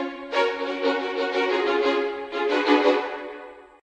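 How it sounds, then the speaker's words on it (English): A violin plays a short bowed melody alone, sustained notes with rich harmonics, moderately loud and close, with a brief dip and fresh bow attack partway through before fading out. "A violin sounds like this."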